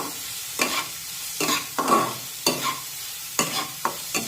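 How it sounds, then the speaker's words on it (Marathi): Chopped onion fries in oil for a mixed vegetable dish as a spoon stirs it, with steady scraping strokes repeating about once a second over a close, continuous sizzle. "त्यामुळे या कांद्याला आपण छान मऊ होईपर्यंत शिजून घेऊया"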